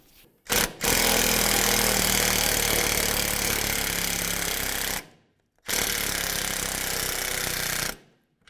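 A power tool runs a nut onto the front sway bar link of a 2002-2006 Honda CR-V, making two loud, harsh, sustained bursts of about four and two and a half seconds, separated by a brief silence.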